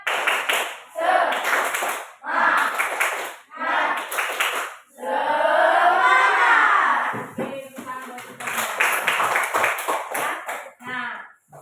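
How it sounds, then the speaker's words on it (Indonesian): Classroom rhythmic spirit clapping, a group clapping in short patterned bursts separated by brief pauses, close and loud, with a voice chanting along in a long middle stretch and the bursts resuming afterward. "Sekarang tepuk semangat dulu ya."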